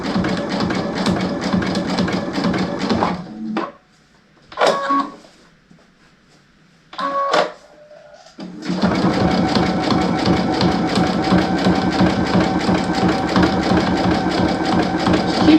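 Sewing machine running steady zigzag stitches along the edge of a fabric mug rug, a continuous close mechanical whir that stops briefly midway with a few short bursts before resuming at full speed.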